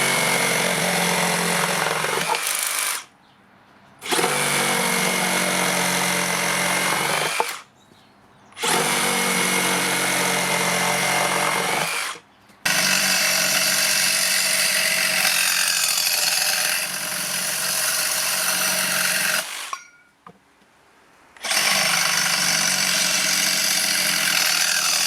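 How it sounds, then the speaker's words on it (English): A Makita XGT 40V cordless reciprocating saw runs in four loud, buzzing bursts, each several seconds long and separated by brief silent pauses. "The Reciprocating Saw."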